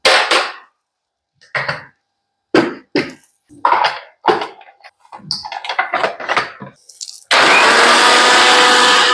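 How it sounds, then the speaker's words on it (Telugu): A kitchen mixer grinder runs in short bursts on fried makhana, several loud whirring pulses with pauses between, ending in one long, steady, loud grind. "దీంట్లో తీసుకుని మళ్ళీ పూల్ మక్కానా కూడా వేసి ఫ్రై చేద్దాం, ఇందులో మిక్సీ చేసేద్దాం."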